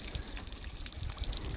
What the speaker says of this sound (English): Let's pour this one out